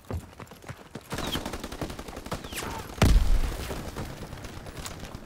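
Rapid bursts of gunfire from a D-Day battle video game, a full magazine emptied in quick succession, with a heavy close boom midway and more shots trailing off.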